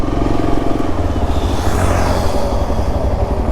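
Yezdi Adventure motorcycle engine pulling away in first gear, a loud close throbbing exhaust note that rises in pitch as it accelerates.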